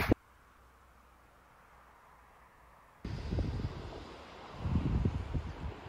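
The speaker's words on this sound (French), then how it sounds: "il y a pas mal de vent" Strong seaside wind buffets a microphone, rumbling and gusting loudly after a quiet start, with no voices.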